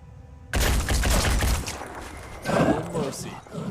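Gunfire in the video game Phoenix Point, aimed at an enemy's armoured leg: a sudden loud burst of rapid shots that cuts in from silence and rattles on for about a second, then trails into softer impacts and a second, lighter burst.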